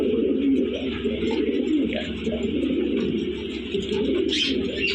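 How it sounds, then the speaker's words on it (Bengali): Pigeons cooing steadily in a pigeon house of Lahori pigeons, including a new black-red pair, with soft overlapping coos and occasional chirps filling the whole stretch at close range. "একদম নতুন কবুতর"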